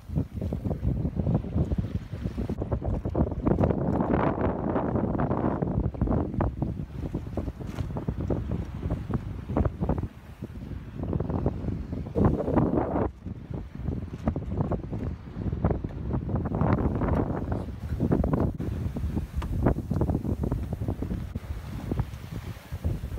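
Strong wind rushes and buffets steadily over a sailboat making 6 to 7 knots, with constant loud gusting noise and no voices.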